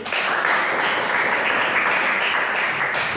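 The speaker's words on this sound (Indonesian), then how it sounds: "Tepuk tangan dulu." A classroom breaking into applause during a class observation session, brisk dense clapping from a group of students that stays steady and close for a few seconds.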